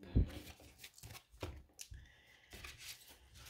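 A deck of cards is gathered up and shuffled by hand, giving soft, close riffling and flicking bursts with small taps, fairly quiet and without talk.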